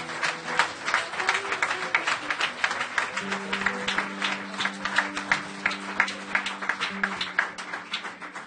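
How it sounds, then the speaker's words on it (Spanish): A church congregation applauds during a worship service, a dense steady patter of many hands clapping, moderately loud, with a faint sustained tone underneath. "Dale un aplauso al Señor, claro que sí."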